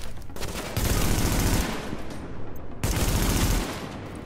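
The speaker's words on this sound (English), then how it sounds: "Someone shooting me from somewhere else." Gunfire in the video game Tom Clancy's The Division, two sustained bursts of rapid automatic shots rattling over a noisy game background, fairly close and without talk.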